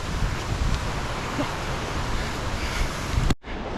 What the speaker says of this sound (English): did they say this is the longest waterfall in Europe?